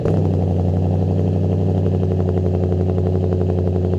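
Lexus IS F engine idles after a cold start, a close, steady low rumble with a faint rhythmic ticking over it, heard alone without talk.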